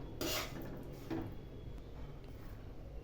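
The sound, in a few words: stirring jaggery and roasted chickpeas in a pan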